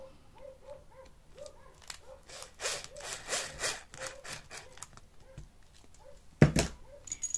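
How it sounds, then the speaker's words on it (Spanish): A power drill whirs in short bursts as it drives a screw into a leather dog collar, with grinding and rubbing noises and a sharp knock near the end. "Ahora con el taladro lo que hacemos es apretar el tornillo"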